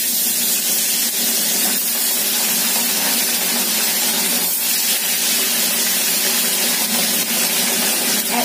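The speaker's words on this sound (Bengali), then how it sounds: "তেল ভালো করে গরম করে নিয়ে এবার অল্প অল্প করে মাছ ভাজবো" Small fish fry in hot mustard oil, a loud, continuous close-up sizzle and hiss that holds steady with no talking over it.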